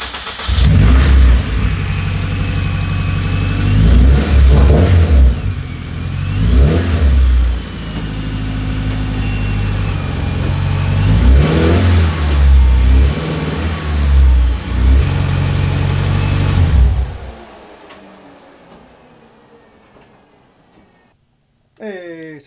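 A Honda K24 engine swapped into a Toyota FRS, sitting up on jack stands, cranks, catches and idles, then revs repeatedly in loud close bursts before shutting off, with a person speaking at times.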